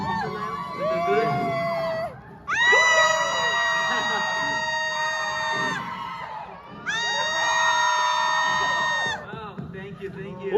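A concert crowd screams and cheers at a Fonda Theatre sound check, two long waves of high-pitched shrieking swelling loudly with brief lulls between, voices mixed in throughout.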